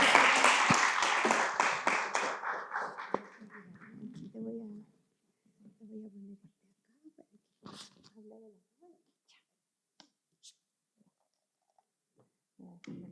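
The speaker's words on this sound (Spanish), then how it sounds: "Un aplauso." Applause welcomes a panelist at a computing panel, loud rapid clapping from a small audience that fades out within a few seconds, followed by quiet with scattered voices and small noises.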